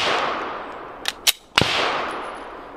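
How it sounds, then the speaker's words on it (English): Handgun shots firing Atlanta Arms Select 115-grain ammunition at an outdoor range, several sharp reports in quick succession, loud and close over steady wind-like noise. "I tend to shoot very fast and every gun is different."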